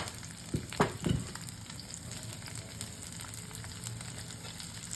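Onions fry in oil tempered with nigella seeds, poppy seeds, green chilli and grated fresh turmeric, hissing in a steady sizzle; a few sharp clacks and splashes come early on as they go into the pan.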